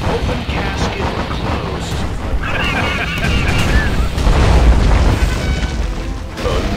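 A particle cannon fires in the strategy game C&C Generals, a sustained roaring blast with crackling bursts that swells loudest midway, heard over steady battle noise.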